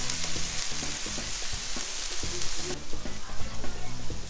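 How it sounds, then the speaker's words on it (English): Ribeye steaks and mushrooms fry in a pan with a steady, loud, close sizzle. Rhythmic low scraping or stirring runs underneath it. "So our mushrooms, obviously they cook way faster."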